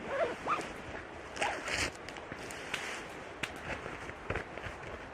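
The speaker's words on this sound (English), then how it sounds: "The thing I hate about this sleeping bag is the zipper. It snags on everything." A sleeping bag zipper is worked in short bursts outdoors at a winter hammock camp, several quick rasping pulls and snags separated by brief pauses and soft rustles.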